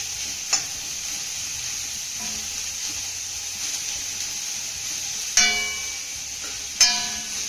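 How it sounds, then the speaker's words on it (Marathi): Grated cabbage and chopped capsicum are being mixed in a bowl, giving a soft continuous scraping and rustling with a few sharp clinks of a utensil against the bowl's rim. "आता हे सर्व साहित्य आपण चांगलं मिक्स करून घेऊया."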